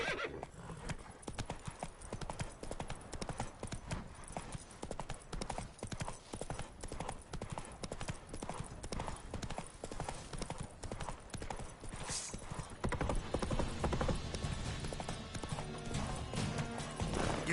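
A horse in the video game Witcher 3 gallops with rapid, rhythmic hoofbeats throughout, then lets out a loud neigh near the end as the ambient noise swells.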